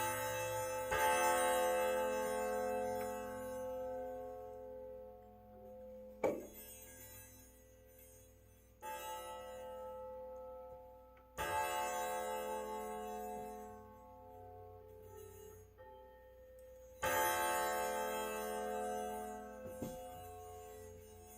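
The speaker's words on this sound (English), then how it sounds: "Just want to get the hammer centered on the chimes." Grandfather clock chime rods struck by the clock's hammer, ringing out as about five separate bright metallic strikes, each with a long sustained decay, at fairly close range with no talking.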